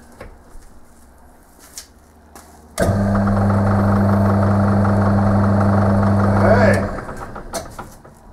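Metal lathe spinning a faceplate at higher speed, a loud steady motor hum and whine starting abruptly, holding for about four seconds, then cutting off, with a voice talking before and after.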